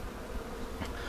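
A steady droning buzz of bees during removal of a large hive comb in Pasadena, Texas, close and continuous, with a slightly louder pass near the end.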